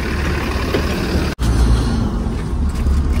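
A run-down bus pulls in, its loud engine rumbling close by, with a brief cut in the middle before the heavy rumble resumes.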